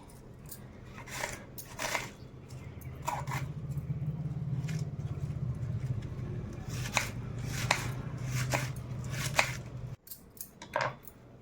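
A knife chops cabbage on a board to prepare cabbage pakodi, making steady, close, rhythmic cutting strokes that slow to a few separate chops near the end.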